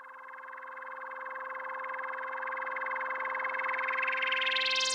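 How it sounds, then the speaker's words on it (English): A synthesized riser from a one-shot kit swells steadily for about five seconds, its bright buzzing tone climbing sharply in pitch and growing louder toward the end, heard alone. "Another detail I threw in was this riser."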